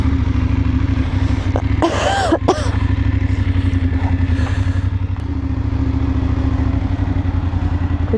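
A motorcycle rides along in Albania between Berat and Çorovodë, its engine droning loud and steady up close, with brief clatter and a passing higher whine partway through.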